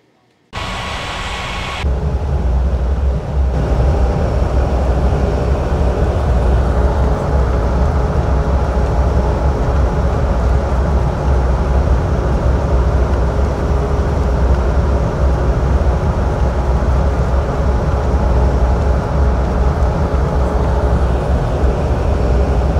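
Airliner landing on runway 18 at Rocky Mountains Regional International Airport, heard as a steady, loud, broadband jet roar with low rumble that rises abruptly and holds unbroken throughout.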